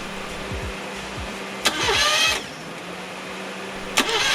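A Rover car engine cranks in two short bursts after a head gasket replacement, a sharp click and a grinding whir that dies out without catching, followed by another click.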